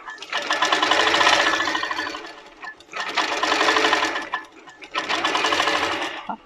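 A Moxie longarm quilting machine with Pro-Stitcher Lite stitches a border in three sustained whirring, rattling runs with short pauses between them, loud and close.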